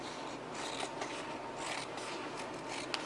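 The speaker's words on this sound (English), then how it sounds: "I might just trim it down a little bit" Scissors snip through distressed denim jeans close by, a series of quiet crisp cuts and rustling fabric at a low, even level.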